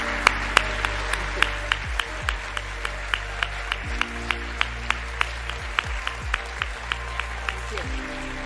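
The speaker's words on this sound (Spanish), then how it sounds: "Un fuerte aplauso." An audience at a conference applauds a speaker, with sharp, evenly spaced claps over a low murmur and a sustained tone, and voices now and then.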